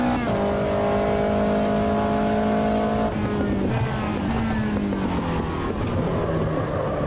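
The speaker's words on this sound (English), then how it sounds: "You can hear the engine struggle there." Race car engine in the Automobilista 2 racing game, a steady loud drone with pitch sagging and bogging down as it labors through a dip and corner, no talk over it.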